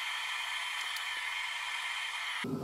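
Shop heater running in the background, a steady, fairly faint broadband whoosh that holds constant throughout, with a brief low thump at the very end and no talking.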